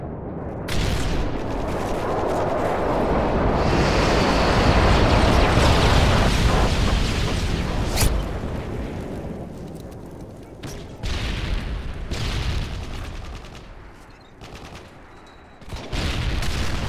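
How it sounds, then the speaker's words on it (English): A Modern Warfare 3 bomb run: a long rolling barrage of loud explosions and booming gunfire, swelling and fading in waves, with fresh blasts near the end. "Affirmative, HQ bombs away."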